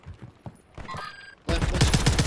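Gunfire rings out during a squad match in an online shooter, with scattered sharp shots at first, then a loud, dense burst of rapid reports that continues to the end.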